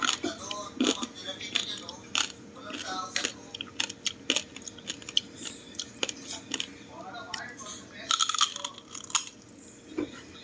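Crunchy roast pig lechon skin is bitten and chewed up close, a run of sharp crackling crunches and wet chewing at irregular intervals, with quiet murmurs and voices around the bites.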